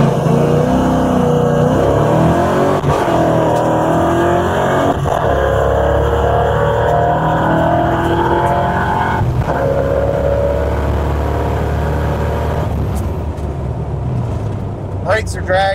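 Car with a badly dragging brake driving on the street, a loud continuous engine drone with rising and falling pitch as it accelerates, heard close throughout with no talk.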